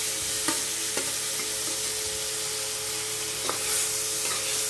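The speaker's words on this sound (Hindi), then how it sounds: "अब हम इसी कढ़ाई में मटर को फ्राई कर लेते हैं" Boiled peas fry in hot oil with turmeric in a kadai, making a steady, even sizzle with a few light stirring scrapes, close and fairly quiet.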